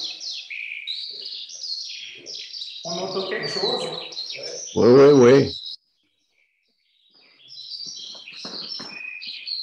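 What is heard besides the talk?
Eurasian skylark song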